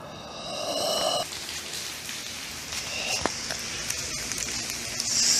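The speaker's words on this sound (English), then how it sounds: "Once again, it's been raining all day." Steady rain patters and hisses on surfaces nearby, with a few sharper drips and splashes standing out through the continuous wash.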